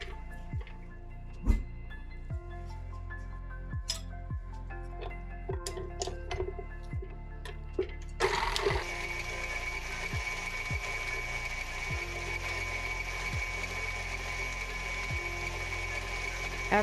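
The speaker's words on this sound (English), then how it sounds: "you're going to let your butter beat for about 2 minutes until it's creamy and smooth" An electric mixer beats butter for vanilla cupcakes. Rhythmic mechanical clicks come first, then a steady, close whirring hum takes over for the rest of the clip.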